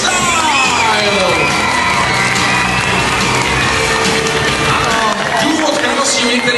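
Large audience at a freestyle competition scoring announcement, cheering, whooping and clapping loudly and continuously throughout, with shouting voices mixed into the roar.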